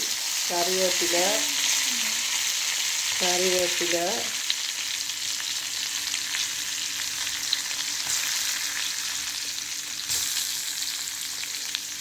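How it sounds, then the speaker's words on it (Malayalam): Mustard seeds fry in hot oil for a squid thoran, making a loud, continuous sizzle that fills the whole clip, with a voice briefly heard over it near the start. "ഇനി എണ്ണ ഒഴിച്ച് കടുക് ഇട്ടേക്കാണ്."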